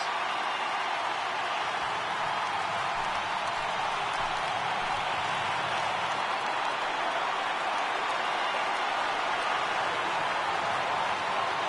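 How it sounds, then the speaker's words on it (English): Crowd noise at a Mets vs Dodgers baseball game during a late rally, a steady broad roar of cheering and applause held at an even, fairly faint level throughout with no clear breaks. "listen to this crowd now. They are really into this."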